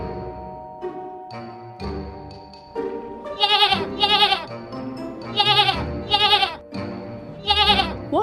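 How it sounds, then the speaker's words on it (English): A goat bleats over and over in short, wavering, nasal cries, becoming a rhythmic series of loud close bleats with brief pauses between them. "It's a goat."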